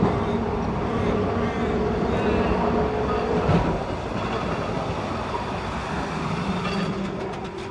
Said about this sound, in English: From here, trams commence their 50-minute run to the city, travelling firstly along Hawthorne Road.